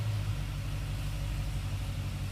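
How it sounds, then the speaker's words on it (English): A 2014 HSV Clubsport Tourer R8 idles just after starting, a steady deep engine rumble with an even low throb that stays constant and close, with no voices. "and the car fires up"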